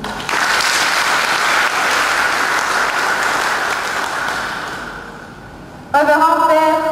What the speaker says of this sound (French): Acclamons pour notre Dieu.